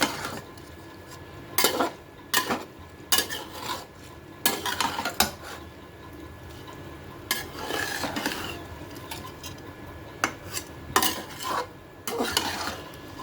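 A spoon stirs soaked rice and chicken in a pot for biryani with slow, careful strokes, the scrapes and clinks against the metal coming in separate bursts every second or so, close and clear, with no voices.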